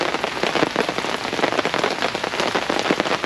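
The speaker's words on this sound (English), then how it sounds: "You can see that rain's, it's raining pretty good." Heavy rain falls steadily and loudly, a dense, even patter of drops hitting surfaces outdoors with no break, and no voices over it.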